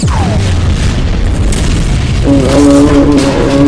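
A deep booming explosion with a sustained rumble, followed by a steady tonal hum, loud and close, a bomb in the Roblox game The Tunnel.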